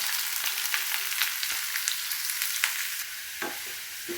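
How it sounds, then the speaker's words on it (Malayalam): Chopped onion fries in hot oil with popping mustard seeds and curry leaves, a close, steady crackling sizzle dotted with sharp pops and a couple of scraping stirs, no voices. "കടുക് പൊട്ടട്ടെ, കറിവേപ്പിലയും കൂടി ഇട്ട് കൊടുത്ത് അരിഞ്ഞ് വെച്ചിട്ടുള്ള സവാള ഇട്ട് കൊടുക്കാം."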